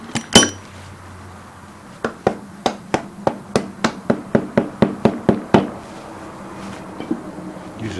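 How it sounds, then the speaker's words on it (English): A rubber mallet taps on Honda XRV750 Africa Twin engine parts during a rebuild, giving a few scattered knocks and then a quick, even run of about fifteen sharp blows, close and clear. "Use a rubber mallet and use a hammer."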